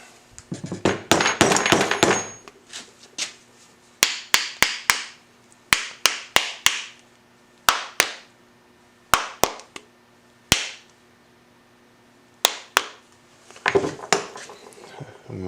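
Sharp metallic mallet taps drive a QA1 rear shock into its bushing on a 1992 C4 Corvette, starting with a fast flurry of ringing strikes, then spaced single and paired hits with brief pauses between.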